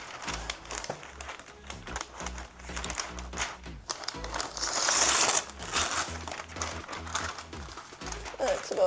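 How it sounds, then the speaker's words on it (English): Parchment paper crinkles and rustles up close as it is handled for a sourdough pizza, with continuous crumpling and scraping and a person talking over it. "now we're going to take the parchment"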